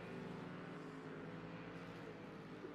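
GT3 race car engine in a sim racing game at Indianapolis, a steady droning roar held at an even level throughout, heard in the background without talk.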